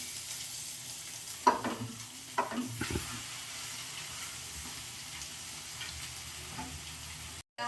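Boiled noodles tossed with onion and carrot in a hot pan for chicken noodles, giving a steady close sizzle with a few sharp scraping stirs early on and no talking.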